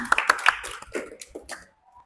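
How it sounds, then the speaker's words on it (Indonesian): Students in a classroom clapping briefly, a short burst of quick, fairly quiet claps with voices mixed in, fading out after about a second and a half. "Oke, tepuk tangan."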